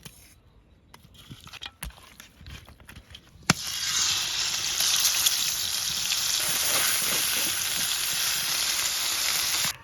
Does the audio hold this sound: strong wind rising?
no